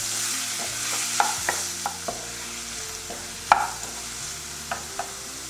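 Onions, dried and green chillies and curry leaves sauté in a pan for poori masala, with a soft steady sizzle under sharp, irregular clacks of a spoon stirring against the pan.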